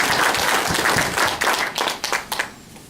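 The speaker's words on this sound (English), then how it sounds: "Now, it is applause." A hall audience at a horror host hall of fame ceremony applauds loudly, a dense wash of clapping that thins and fades toward the end.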